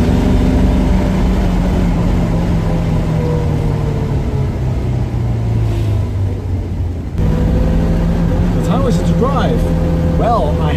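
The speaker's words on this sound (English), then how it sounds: "It's the V8 sound, yes it is." Steady, deep rumble of a 1966 Ford Mustang V8 engine while driving, its pitch rising and falling, with someone talking over it.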